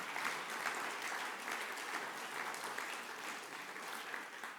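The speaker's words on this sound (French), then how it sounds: "Je vous demande là aussi de l'applaudir aussi chaleureusement qu'affectueusement." Sustained audience applause at a conference's closing plenary, a dense even wash of many hands clapping at steady loudness throughout.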